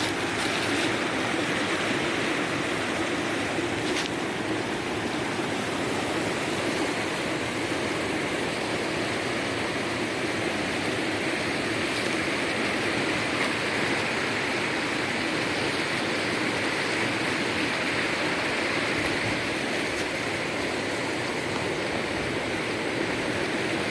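Steady, loud rush of a waterfall and rocky stream flowing continuously beside a river bank, a dense broadband roar with no pauses and no voices.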